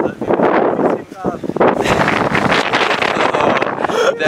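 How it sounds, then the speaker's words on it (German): Strong wind on a mountain summit at 780 m, buffeting and roaring continuously against the microphone with gusts surging louder and easing. "Der Wind ist hier echt krank."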